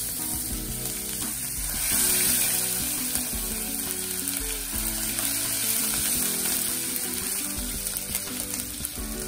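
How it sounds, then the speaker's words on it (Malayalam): Chopped ginger sautéing with curry leaves in a hot pan, giving a loud, dense, crackling sizzle that holds steady throughout with scattered stirring scrapes and no voices. "അതിനുശേഷം നമ്മൾ അരിഞ്ഞു വെച്ചിട്ടുള്ള ഇഞ്ചി ഇട്ട് കൊടുത്തിട്ട് നന്നായിട്ടൊന്ന്"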